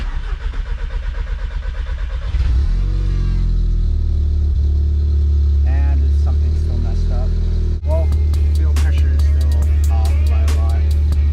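A VW MK7 Golf R cranks and its engine catches right after a low-pressure fuel pump install, settling into a loud, steady idle with a few blips, while a person talks over it.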